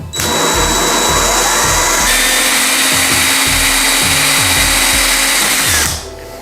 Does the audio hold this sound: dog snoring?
no